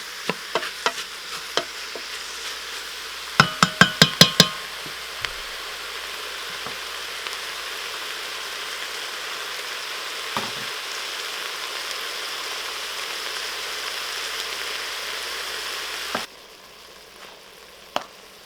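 Ground meat browns and crackles in a Cosori pressure cooker, a steady close sizzle opened by a quick cluster of clanking spoon scrapes, then an even frying hiss that drops away suddenly near the end; no speech.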